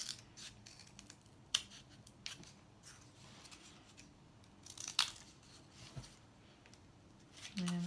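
Scissors snipping a paper spinner pointer, a few crisp scattered cuts close up amid rustling, quiet overall, with a voice starting at the end.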